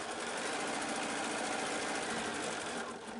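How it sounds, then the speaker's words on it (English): Sewing machine stitching in the ditch along the seams of a Bali Blooms X quilt block, a steady continuous whir running loud and close for the whole span with no talk. "I'm just stitching in the ditch and through the midpoint"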